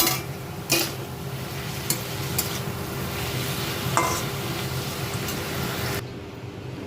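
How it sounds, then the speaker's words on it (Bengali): Vegetable filling with chopped chili frying in a pan, a continuous moderate sizzle with occasional spatula knocks and stirring clatter against the pan, heard alone without speech. "এটা একটু ভালো করে সেদ্ধ হওয়া পর্যন্ত একটু ভাজবো।"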